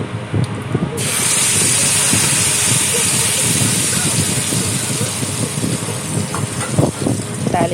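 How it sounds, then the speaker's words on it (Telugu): Tempering for peanut chutney bursts into a loud, steady sizzle of hot oil about a second in and hisses continuously at close range, with small crackles near the end. "తాలింపు పెట్టేస్తున్నాను."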